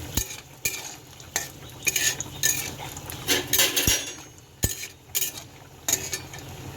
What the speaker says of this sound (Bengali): এইবার শুকনো লঙ্কা আর বড়িটা আমি একটু ভেজে নিচ্ছি